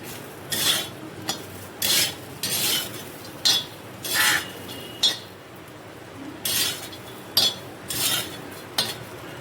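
Coconut is dry-roasted on a tawa griddle, with a metal spatula scraping and clinking against the pan in repeated short bursts, close and crisp, with no talk.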